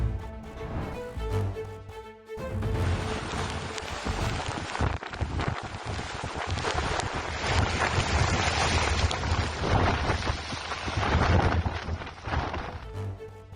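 Strong wind and rough sea at Pamban, with roaring gusts buffeting the microphone over a constant wash of churning waves, loud and unbroken for the whole stretch after a brief dip near the start.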